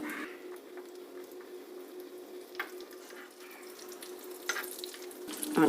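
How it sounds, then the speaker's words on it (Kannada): Cashews fry in hot ghee for Sankranti pongal, a soft, even sizzle with scattered crackles and light clinks that grow a bit louder toward the end. "ಈಗ ತುಪ್ಪ ಬಿಸಿಯಾಗಿದೆ ಗೋಡಂಬಿನ ಸೇರಿಸ್ತಾ ಇದ್ದೀನಿ"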